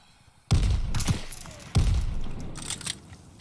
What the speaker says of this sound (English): I'm shooting a fucking shotgun at this guy, man.